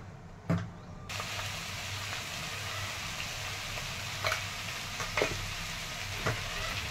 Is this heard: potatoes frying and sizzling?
yes